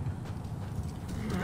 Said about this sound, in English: why is another horse there?